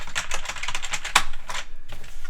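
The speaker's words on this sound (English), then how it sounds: "If the keys are supposed to rattle like that." Loose keys clatter on a retro 8-bit computer keyboard, rapid close clicks and rattles in an uneven typing rhythm with a couple of sharper, louder knocks and no talking.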